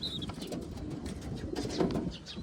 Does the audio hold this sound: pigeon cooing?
yes